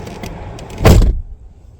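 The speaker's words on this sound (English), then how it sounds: "Locks will again cycle to indicate end of programming mode." Power door locks on a 2008-2017 Ford Taurus cycle with a single brief mechanical clunk, a short broadband burst standing out over quiet cabin background, with no talking.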